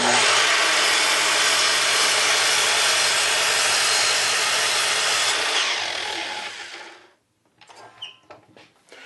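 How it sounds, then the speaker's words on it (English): A sliding miter saw roars loudly through a board of wood, trimming the ends of pieces for table aprons, cutting steadily for several seconds before the motor winds down and a few faint clatters follow. "I'm back at the sliding miter, and I found some wood to use for the aprons, but I'm going to trim off the ends first"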